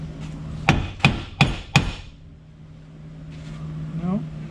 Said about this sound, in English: That's my trusty claw hammer.